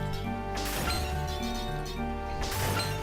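Candlesticks breaking in Castlevania Dawn of Sorrow, a few bright glassy smashing and clinking hits with short shattering tails, heard over steady game music with no talk.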